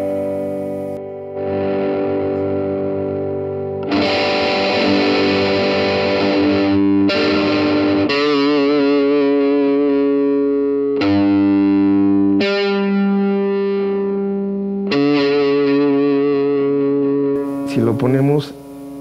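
Electric guitar played through a Blackstar Dept. 10 Dual Distortion pedal on channel 2 with overdrive 1 engaged and volume raised, giving loud, thick distorted chords and sustained notes in several separate strums, with no talking over it.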